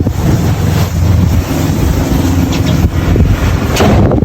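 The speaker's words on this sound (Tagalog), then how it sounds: "Ayan, dagat na yan." Sea waves rolling and washing at the shore in Dingalan, Aurora Province, Philippines, mixed with heavy wind buffeting the microphone, loud and continuous.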